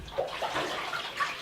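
Tap water runs steadily into a bathtub to wet cleaning rags for wiping down a cheap tiled shower surround, a continuous close splashing rush with small gurgles and no talking.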